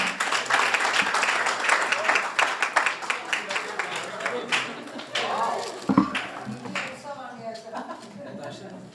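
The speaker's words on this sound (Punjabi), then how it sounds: "ਜ਼ੋਰਦਾਰ ਤਾਲੀਆਂ ਦੇ ਨਾਲ" An audience claps loudly for a singer being introduced at a Punjabi music gathering, the applause dense and close at first, then thinning into scattered claps, with a voice talking over it.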